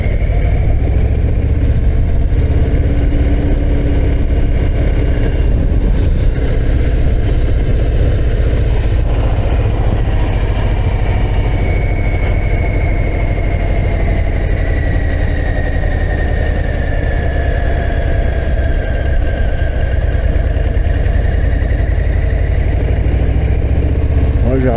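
A Harley-Davidson Low Rider ST engine rumbles steadily at low revs while riding down the Col de la Madeleine mountain pass, a loud continuous throb mixed with wind rush throughout.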